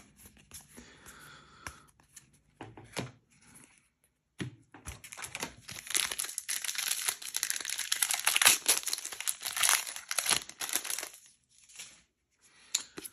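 Bloomburrow play booster packs being torn open, foil wrappers crinkling and crackling in sustained bursts after a few quiet taps, with no talking.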